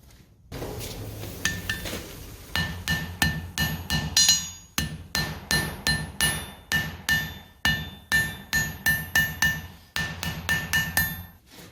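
A blacksmith hammers hot iron pieces together in forge welding at a museum hammer-in, with sharp ringing strikes in steady rhythmic runs broken by short pauses, loud and close.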